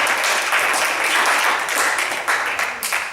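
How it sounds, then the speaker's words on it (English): Loud, dense applause fills a room at an improv comedy night, sustained and even for a few seconds before easing slightly at the close. "Let's give him a big round of applause to connect us today."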